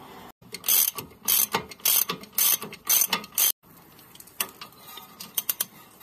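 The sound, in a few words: wrench loosening 19mm lower strut bolts on Honda CR-Z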